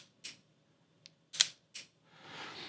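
A Hasselblad X1D II medium-format camera fires its shutter at a slow speed, giving several crisp, metallic clicks at uneven intervals that are close and isolated in a quiet room, followed by a soft hiss.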